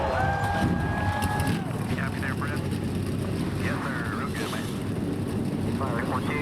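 Stock car engines start up in the NR2003 racing game before the Dodge 400 at North Wilkesboro's 5/8 mile track, a dense continuous engine roar throughout with a rising whine early on and an announcer talking over it.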